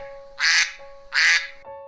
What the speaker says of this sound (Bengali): এরপর হাঁস তার বন্ধু কাকের কাছে গেল আর কাককে ডাকতে থাকলো।